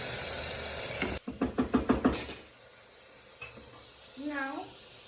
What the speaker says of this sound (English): I'll keep on sauteing it for at least 2 minutes.